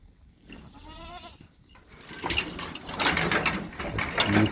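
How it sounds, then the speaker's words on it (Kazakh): A flock of sheep arrives at the pen, with a clear wavering bleat early on followed by a louder jumble of shuffling hooves and movement nearby. "Міне қойларымыз келді."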